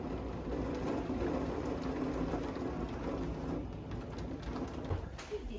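Torrential rain pours down steadily in Maine, a dense, even hiss of falling water with faint bird calls mixed in and no talking.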